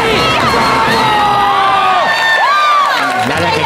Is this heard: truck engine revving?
no